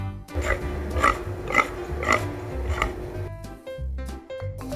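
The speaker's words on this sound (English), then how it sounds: "Pig." A pig grunts and oinks in a series of short, close snorts, roughly five evenly spaced calls followed by a few lower grunts, with no talking.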